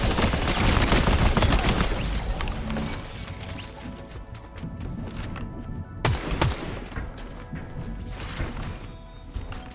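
Gunfire in Fortnite: a loud burst of rapid shots in the first seconds, then scattered sharp cracks and another cluster of shots later, with crashing impacts among them and no talking.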